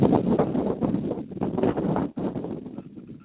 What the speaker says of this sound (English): it's windy as ever up here